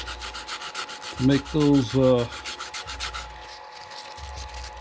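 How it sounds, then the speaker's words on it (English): Wood is hand sanded with 150 grit sandpaper on a turned magnifying glass stand, three loud, close rasping strokes in a row followed by quieter rubbing, with a brief spoken phrase partway through. "I'll probably go with 150, and what I'll do, so I'll just hand sand it here"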